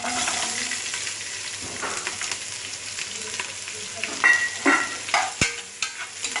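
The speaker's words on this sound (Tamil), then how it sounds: "நல்லா வெங்காயம் பொன் நிறமாக நல்லா கலர் மாறுறது வரைக்கும் நல்லா நம்ம வதக்கிட்டே இருக்கணும்" Sliced onions and green chillies sauté in a pan for chicken biryani, giving a continuous sizzle broken by repeated scraping stirs and clinks of a spoon that grow louder and more frequent toward the end.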